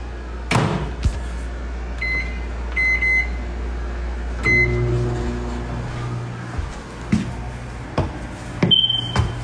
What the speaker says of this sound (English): Oh, it's a smoke alarm.